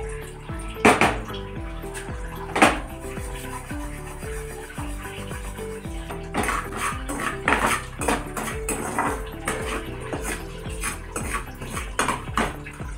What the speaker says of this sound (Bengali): এই সুজিটাকে একটু হালকাভাবে ভেজে নেব